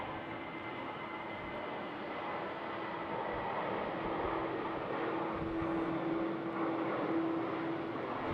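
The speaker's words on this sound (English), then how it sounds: "And yet another KLM 737." A KLM Boeing 737 landing on runway 18R at Schiphol in winter conditions: a steady, moderately distant jet rumble and whine that holds even throughout, with a faint tonal hum rising slightly near the end.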